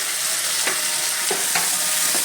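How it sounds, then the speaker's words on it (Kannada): Onions and tomatoes for a matar paneer sizzle and crackle in a hot pan, a steady close frying hiss with a few soft stirring scrapes. "ಇವಾಗ ಈ ಥರ 3 ಟೊಮೆಟೊ, ಇದನ್ನು ಫ್ರೈ ಮಾಡ್ಕೋಬೇಕು"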